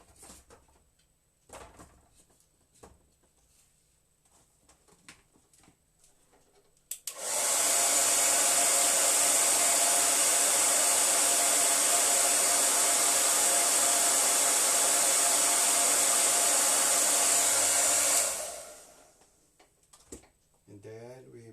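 A hair dryer blows steadily on a freshly painted flower layer, a loud continuous whoosh that switches on after a few quiet moments, holds for about eleven seconds, then winds down and stops.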